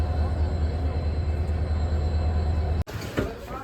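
A passenger train heard from inside a carriage: steady loud rumble and rolling noise throughout, a sharp cut, then a brief squeal and clatter near the end, with no speech.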